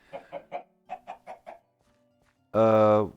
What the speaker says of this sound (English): No, it's not people. It's chickens.